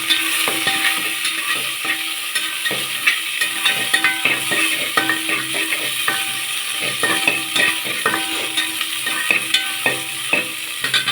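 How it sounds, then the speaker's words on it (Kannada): Green chillies, pepper and cloves fry in oil in a pan, a steady bright sizzle crackling throughout, with frequent close scraping and stirring clicks of a ladle. "ಇವಾಗ ನಾನು ಇದನ್ನು ಚೆನ್ನಾಗಿ ಹುರ್ಕೋಬೇಕು ನೋಡಿ ಫ್ರೆಂಡ್ಸ್ ಈ ಥರ ಹುರ್ಕೋಬೇಕು"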